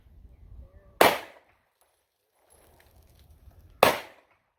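Two sharp, loud handgun shots ring out at an outdoor range, spaced about three seconds apart, with brief low rumbling and rustling in between and no talk.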